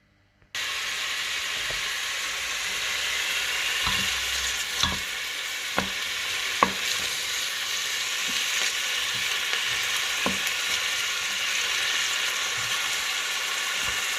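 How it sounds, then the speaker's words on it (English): Onion and seasoning sauté in oil in a pot with a steady close sizzle, marked by occasional clicks and clanks of stirring, and no voices. "I'm going to saute these ingredients, the seasoning, the onion and everybody"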